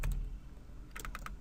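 Keys clack on a computer keyboard while someone enters code, a few quick bursts of close, crisp taps with short pauses between them.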